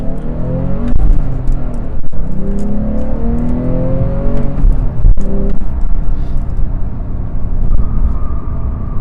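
A 2015 Porsche 991.1 Carrera S, rear-wheel drive with a naturally aspirated flat-six and seven-speed manual, drives along, its engine droning and rising in pitch through gears with shifts, heard from inside the cabin.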